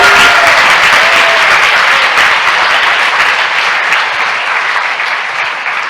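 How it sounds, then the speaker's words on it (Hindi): Church congregation applauding at a Hindi Bible sermon, steady dense clapping filling the room, loud and sustained, slowly easing off toward the end with no talk over it. "आइए इस वचन के लिए ताली बजाएं।"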